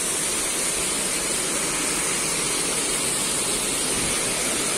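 River water flowing beside a cucumber farm in Indonesia, a constant broadband rushing hiss with no variation in level, close and fairly loud throughout.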